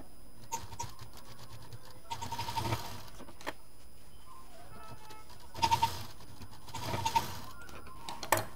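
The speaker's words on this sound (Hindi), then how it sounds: "अब इस पर एक मशीन चला देंगे पहले हम।" A sewing machine stitches a fabric gift pouch in short bursts of rapid mechanical clatter, close by, separated by quiet pauses, with faint birdsong in the background.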